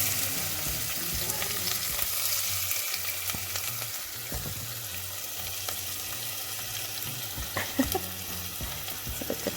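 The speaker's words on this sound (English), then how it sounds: "Right, so now that is busy doing its thing, I'm going to add the onion." Onion goes into a hot pan with star anise for a butter bean curry, bringing a close, continuous sizzle with occasional scrapes and small clatters, no voices.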